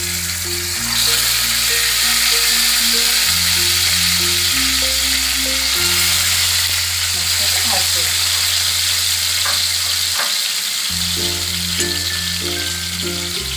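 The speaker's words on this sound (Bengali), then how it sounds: "এবার আমরা মাছগুলোকে ভাজতে দেব।" Pieces of bhetki fish fry in hot oil with a loud, steady sizzle and crackle that carries through the whole stretch, while background music plays over it.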